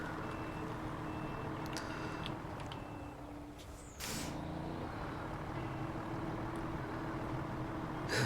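Steady electronic reversing beeps from a truck backing up while towing in The Long Haul video game, repeating over a low idling engine rumble with a brief air-brake hiss midway, no talk.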